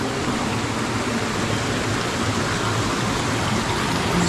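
A clear mountain river on a hiking trail rushes steadily near the listener, a dense, even wash of flowing water with no voices.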